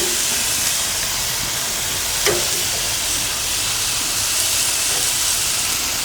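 Thin marinated supermarket steaks sizzling in a hot pan just after being flipped, a steady, loud, close hiss of frying with no talk.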